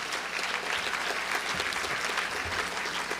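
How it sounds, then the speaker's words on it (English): A crowd applauding steadily for symposium panelists, a dense wash of clapping that holds at an even level throughout. "let's give all of our panelists a round of applause"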